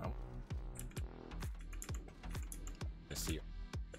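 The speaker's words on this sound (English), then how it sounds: "I'm using my keyboard. That's why you hear the click, clack, clack, clack, click." A computer keyboard clatters during a Maplestory game session: crisp, close keystrokes arrive in a fairly regular rhythm about twice a second, with a voice talking over them.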